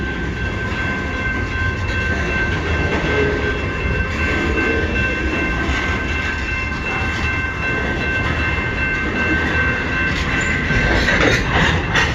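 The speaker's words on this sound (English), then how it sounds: "See the end? That's the end of the train." A long CN freight train rolls slowly past at close range, its wagons rumbling steadily with faint clickety-clack and a thin high metallic whine running throughout, continuous and loud with no talking.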